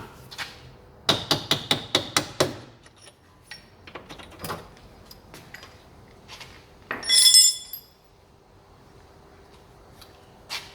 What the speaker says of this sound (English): Just knock it out with a punch.